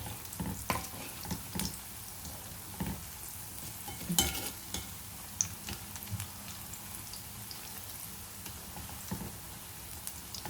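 Pakoras frying in hot oil, heard as a close bubbling sizzle broken by irregular sharp clicks and clatters as the fritters are turned and pushed around.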